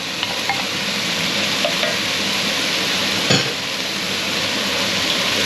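Onions and leeks sweating in a pan for a herby chicken stew give a constant close, even sizzle with faint stirring scrapes and one brief louder clatter midway.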